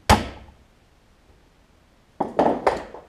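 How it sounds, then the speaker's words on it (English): Close, sharp metallic knocks sound as pins are driven through parts of a Craftsman LT3000 riding mower: a single strike, a long pause, then three quick strikes in a row. "to knock these pins through."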